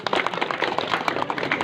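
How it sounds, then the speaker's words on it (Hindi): A crowd claps together at an outdoor political rally for a BJP MP in Mandsaur, with quick, uneven rhythmic clapping filling the space and continuing steadily throughout. "आई तो ताली बजाओ।"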